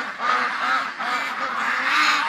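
Ducks on a homestead quacking nearby, a run of repeated nasal quacks that overlap in a steady cluster, fairly loud and with no talk over them.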